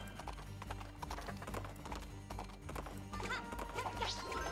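Horses gallop in Princess Peach: Showtime!, a fast, dense drumming of hoofbeats under game music, with a brief whinny near the end.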